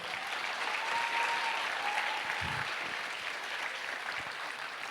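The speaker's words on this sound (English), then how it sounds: "please give a round of applause to Sai" Steady, dense applause from an audience at a youth TEDx event in Beirut, a continuous wash of clapping held at an even level throughout.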